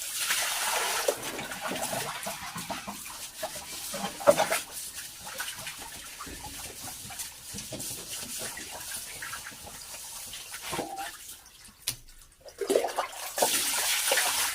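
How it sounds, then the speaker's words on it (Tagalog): Running water from a tap splashes steadily over a frying pan being rinsed of grime, a continuous near hiss and patter with brief dips and surges of flow. "hugasan na natin ang ating kawali using this muna para matanggal yung mga dumi niya"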